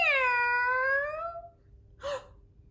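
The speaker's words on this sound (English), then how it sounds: "Suddenly, we hear a distant" A single drawn-out cat meow sliding downward in pitch, clear and fairly prominent, followed after a short pause by a brief second mew, with quiet background and no talking.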